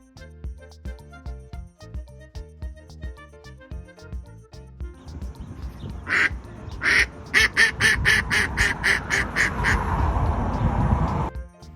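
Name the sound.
duck quacking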